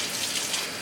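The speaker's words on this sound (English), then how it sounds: "Turn the water on." Water gushes steadily from a shower tap, a close, continuous hiss with no other sounds over it.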